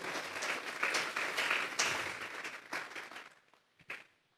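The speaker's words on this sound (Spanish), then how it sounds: "Fuertes esas palmas al Dios de la gloria." Church congregation at a Sunday service applauding, a dense wash of clapping that swells and then thins out into a few scattered claps as it fades.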